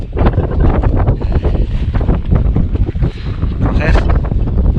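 Strong, gusty wind buffets the microphone at close range, continuous and loud, during a predawn summit climb on Mount Slamet via the Bambangan route.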